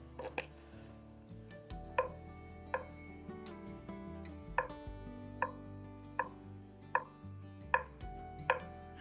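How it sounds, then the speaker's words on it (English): A knife cubing bologna on a cutting board, steady rhythmic chops roughly every half second, crisp and close, over a soft background hum with no talking. "I'm cubing this up because I wanted this to fry nicely in the pan."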